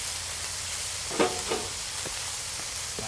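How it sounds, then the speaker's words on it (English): Food browning in a hot pan sizzles steadily, with a few brief pops and stirring clinks over the constant hiss. "Sizzling all over."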